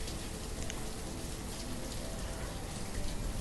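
Steady, even hiss of rainfall in the town-building game Banished, a constant wash of dense drops with no pauses or voices.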